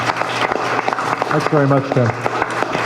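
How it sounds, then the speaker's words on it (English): Applause from a conference audience after a talk on transporting instruments and raw materials, steady clapping running throughout with someone speaking over it briefly. "Let's give Tim a round of applause."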